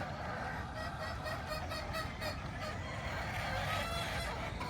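Several chickens cluck and call in the distance over a constant outdoor background, with a rooster's crow rising among them.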